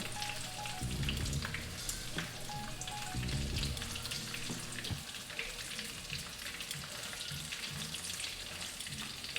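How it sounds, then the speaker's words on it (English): Chicken katsu sizzles and crackles as it fries low and slow in oil, a dense, steady hiss with a few heavier bubbling bursts near the start, no talking. "I'm frying low and slow because I want to make sure that that chicken is cooked"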